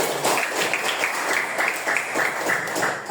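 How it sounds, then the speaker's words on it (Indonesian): Pupils in a classroom clap together, a continuous busy patter of many hands at moderate loudness, sounding close and filling the room. "tepuk tangan untuk semua"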